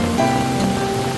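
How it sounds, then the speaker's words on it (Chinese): A sudden afternoon thunderstorm pours heavy rain at a riverside campground, a dense, steady hiss of water drumming nearby without a break. "突然下起午后雷阵雨"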